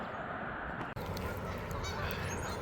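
A flock of geese honks continuously in the distance, a dense chorus of calls over steady outdoor noise, with a brief cut partway through.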